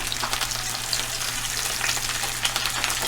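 Ginger paste, spices and salt fry in a pan for crab curry, giving a steady, close sizzle with scattered crackles and light stirring, no voices.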